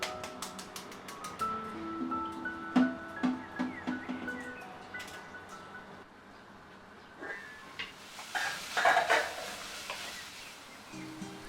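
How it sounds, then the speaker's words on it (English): Two sliced medium onions, with slit green chilies, sautéing in coconut oil, giving a soft, faint sizzle with occasional light stirring scrapes and clinks of a utensil against the pan. "then goes in 2 medium onions sliced, saute till it's soft and translucent"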